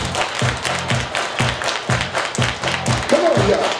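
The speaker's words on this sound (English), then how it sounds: "Everybody clap your hands." A dance-session crowd claps hands in steady rhythmic unison, sharp regular claps about twice a second over a thumping music beat, with a brief vocal at the end.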